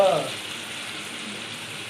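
Small fish fry in masala with coriander powder and ginger-garlic paste, a steady close hiss of frying oil running throughout after a brief louder start.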